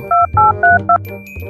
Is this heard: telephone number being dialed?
yes